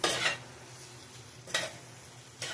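Pan-fried potatoes stirred in a pan: three scraping, rustling strokes spaced about a second apart over a quiet, steady background sizzle, close to the microphone with no talking.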